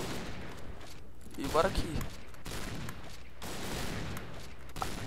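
Enemy gunfire in the shooter Point Blank, a burst of rapid shots with scattered single cracks, heard under someone talking.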